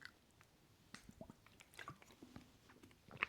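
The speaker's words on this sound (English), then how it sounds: "it hears me swallow when I drink" Someone close to a sensitive microphone drinks and swallows, producing quiet wet gulps, small clicks and squishy mouth noises scattered over a few seconds, with no speech.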